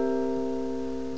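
A dominant seventh chord is picked on guitar, its notes blending into a steady sustained ring that fades gently, heard alone and close.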